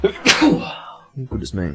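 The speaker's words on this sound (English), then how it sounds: "That was a sneeze." A single sharp, close sneeze bursts out, followed after a short pause by a person speaking a brief phrase.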